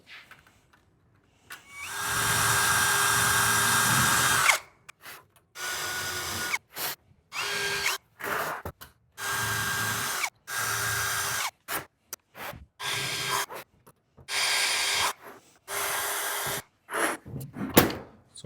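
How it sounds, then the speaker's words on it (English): A power drill whines while drilling a small hole in the metal floor of a 1937 Lincoln Zephyr, in one long burst, then a series of short, stop-start bursts separated by brief silences. "Do a quick miniature drill hole"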